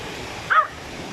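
A single short dog bark, somewhat distant, against a constant background hiss of rushing water, in the countryside of Medellin, Colombia.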